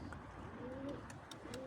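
Pigeons coo softly in a loft setting, with a couple of low, rolling calls rising over a steady background hum and faint intermittent rustling.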